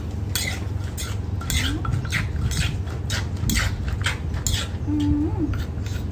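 Utensils clinking and scraping against a bowl while spicy Korean instant noodles are tossed into a pounded noodle salad, a steady busy clatter throughout with soft squeaky mixing sounds.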